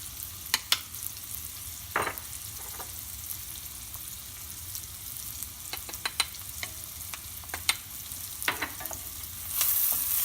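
Ground spices sizzling in hot fat in a pan for an oyster mushroom curry, a steady low frying hiss under occasional clinks and scrapes of a utensil, with no talk.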